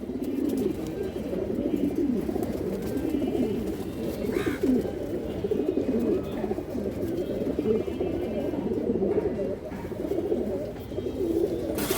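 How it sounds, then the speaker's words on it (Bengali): Several pigeons, including a large high-flyer type bird, coo steadily and continuously at close range, a dense low rumbling warble filling the whole stretch with brief wing or body rustles. "বড় সাইজের একটা কবুতর"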